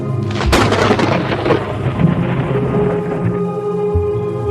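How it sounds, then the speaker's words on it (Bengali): A close, loud thunderclap cracks early, then rolls into a heavy, continuous rumble of storm with rain and wind filling the background throughout. "বাইরে ঝমঝমিয়ে বৃষ্টি পড়ছে, সাথে ঝোড়ো হাওয়া।"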